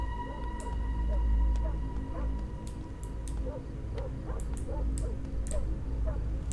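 Dog whimpering in a horror video game, short faint whines and yips recurring over a low droning ambient background with steady tones.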